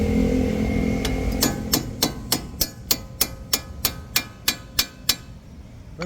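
Strut bolts on a Lincoln Corsair / Ford Escape front suspension are driven home with about a dozen sharp, evenly spaced hammer blows, loud and close, in a steady rhythm after a short pause, with no talk over them.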